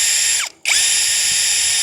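A compact EMTOP 55 Nm cordless drill drives at close range with a loud, steady high-pitched motor whine. It cuts out briefly, then spins back up with a falling-then-rising pitch sweep.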